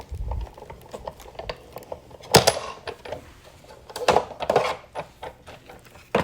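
Manual Sizzix Big Shot die-cutting machine being cranked by its knob, with irregular mechanical clicks, clunks and rattles from the rollers, including a few louder knocks, close by and without talk.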